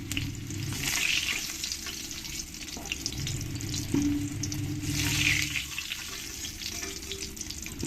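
Fried potatoes are lifted out of hot oil, a close, steady sizzle and bubbling running throughout with occasional soft scraping and clinks of a utensil against the pan, and no voices.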